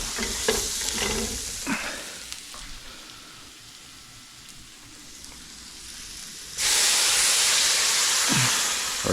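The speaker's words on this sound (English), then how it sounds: "Chili powder, oregano, crushed leaves, salt and black pepper. Toast them up a little bit." Chili powder, oregano, salt and black pepper are toasting in a pan for Cuban ropa vieja, giving a soft sizzle with a few stirring scrapes. A louder hiss of steam rises near the end.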